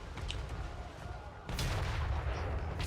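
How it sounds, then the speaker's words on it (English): A Grand Cannon fires in a modded Cathay campaign of Total War, with heavy artillery blasts over continuous battle din, growing louder and denser halfway through. "Grand Cannon gets some nice shots off now."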